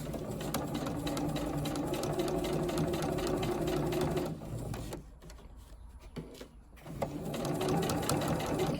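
A domestic sewing machine stitches along the top edge of a seam in a steady, fast mechanical run, pausing briefly midway before starting up again, close and clear.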